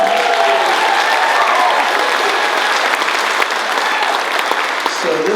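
A county fair audience applauds the current fair queen at the Washington County Fair, a steady, dense crowd clapping that holds evenly throughout and fills the space close by.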